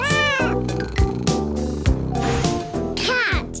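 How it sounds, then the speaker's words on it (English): Cat meowing several times in a row, with rising and falling drawn-out calls over a steady musical background and no talk over it. "Cat meow."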